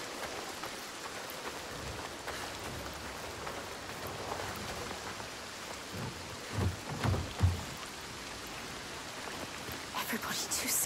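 Steady rain hissing on surfaces in Senua's Saga: Hellblade II, with low thunder rumbles swelling near the middle and a louder burst toward the end, continuous and enveloping.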